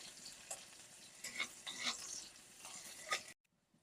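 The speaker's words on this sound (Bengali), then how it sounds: "পেঁয়াজগুলো আমি হালকা করে ভেজে নেবো" Chopped onions fry lightly in a pan for a fish curry, giving a soft, steady sizzle with a few brief crackles and stirring scrapes, then cutting off to near silence at the end.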